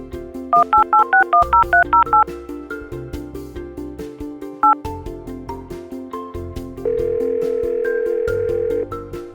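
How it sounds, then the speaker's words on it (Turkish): A telephone call is placed with a rapid series of DTMF keypad beeps. A single later beep follows, then a steady, loud dial tone holds for about two seconds, with electronic music playing underneath. "Şimdi Arena'yı arayacağım."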